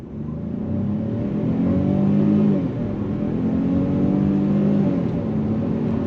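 A 2023 Ford Escape's 3-cylinder turbocharged engine pulls under throttle, heard from inside as two rising surges separated by a brief shift dip, moderately loud and steady with no voices.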